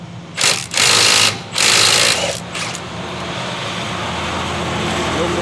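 Milwaukee M12 Fuel 3/8-inch stubby impact wrench, driven through a universal joint and socket, hammering against a stuck bolt in two loud close bursts followed by a shorter one, then steady background hum.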